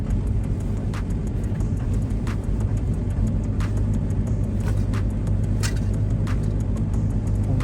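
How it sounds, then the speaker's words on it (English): A Cummins 12-valve diesel in a Dodge truck with 148,000 miles idles while warming up in Alaska, a loud steady low rumble with faint ticking clatter running throughout and no voices. "Cummins diesel warming up."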